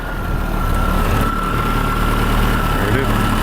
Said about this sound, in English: Let's have another listen to the engine.